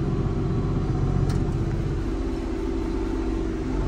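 A tractor engine runs at steady mid revs while discing a field, giving a loud, constant low rumble close by with a slight drop in pitch partway through.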